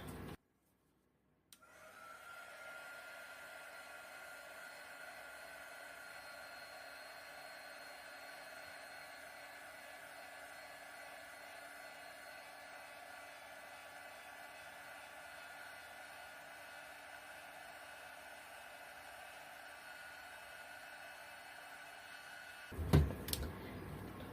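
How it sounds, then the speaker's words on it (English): A heat gun blows hot air over poured acrylic paint in a steady, even whoosh that starts after a short silent pause, runs unbroken for about twenty seconds, and ends with a brief clatter. "let me quickly hit this with a heat gun"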